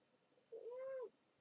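A domestic cat gives a single short, quiet meow, a clear rising-and-falling call lasting about half a second against near silence.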